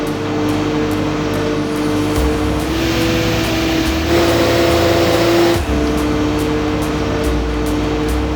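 Heavy industrial press carried out of a factory on a transport platform, a steady loud motor drone with tonal hum running throughout, shifting slightly in pitch midway, with no voices.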